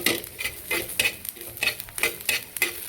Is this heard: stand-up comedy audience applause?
no